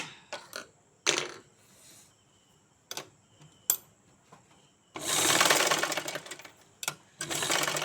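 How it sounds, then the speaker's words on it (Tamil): A sewing machine stitches around a garment neckline in short bursts, then runs in a longer loud continuous burr near the end, close by. "இப்படியே சுழட్டி தைக்கணும்."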